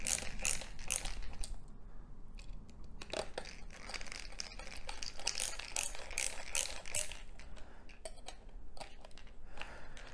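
Screws are tightened while an mPower MP100 single gas detector's plastic case is reassembled, giving a continuous close run of small ratcheting clicks, creaks and scrapes for about ten seconds.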